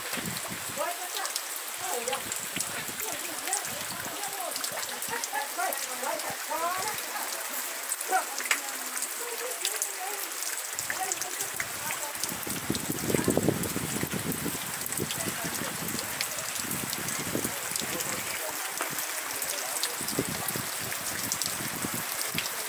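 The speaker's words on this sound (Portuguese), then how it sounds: "Chuvinha com vento, uma garoazinha." Light rain and wind patter and hiss steadily outside a covered porch in the Sertão das Marrecas countryside near Sobral, with someone talking at times over the soft rush.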